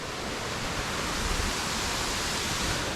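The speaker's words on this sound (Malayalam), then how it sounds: "അതായിട്ട് നമ്മുടെ വെള്ളച്ചാട്ടം" Steady, dense rushing roar of a waterfall in Munnar, heard close and loud with no pauses or voices, like constant water crashing onto rock.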